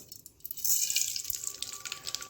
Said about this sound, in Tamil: கடுகு உளுந்தம் பருப்பு நல்லா பொரிஞ்சிடுச்சுங்க